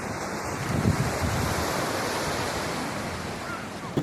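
Waves rolling onto Keem Bay sea beach on Achill Island, Ireland, a steady broad roar of surf with wind buffeting the microphone, close and continuous.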